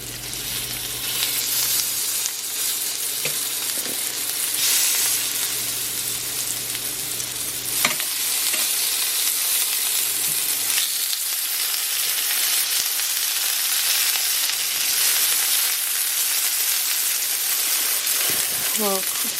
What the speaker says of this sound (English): so I think it's about time to flip the salmon over.